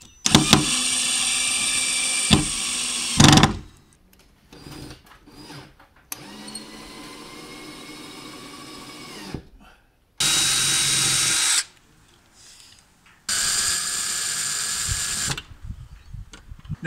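A power drill bores a pilot hole in a wall for hollow wall anchors, in several loud whining bursts of two to three seconds separated by pauses with handling sounds and some talk.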